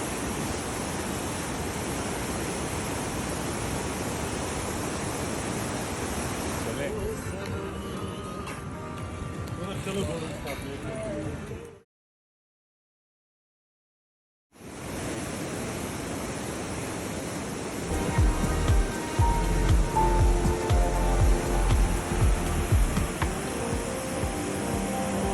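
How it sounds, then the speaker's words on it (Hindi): A river flows beside a trekking trail in Kashmir, a steady broad rushing that drops out briefly near the middle and then returns with a deeper, louder rumble. "साथ ही चलने वाली नदी की शांतिपूर्ण आवाज"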